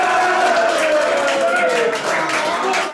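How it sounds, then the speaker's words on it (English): Crowd at a football match between New Milton Town and Millbrook in the Hants Senior Cup cheering and clapping in a loud sustained roar that fades abruptly at the end. "Possibly the second or third biggest cheer of the night"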